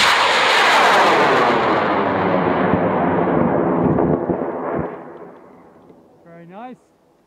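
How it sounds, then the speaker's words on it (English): Amateur high-power rocket launching on an experimental M1500 motor, 3-inch airframe: a loud, roaring blast right at ignition that slowly fades as the rocket climbs away, with a brief voice at the end. "this rocket is launching in 5, 4, 3, 2,"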